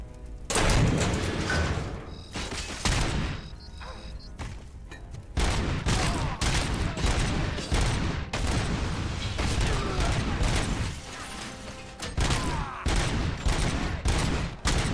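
Rapid gunfire bursts and heavy grenade booms tear through an auto shop full of vehicles in RoboCop: Rogue City, the loud clatter running almost continuously with brief drops between volleys.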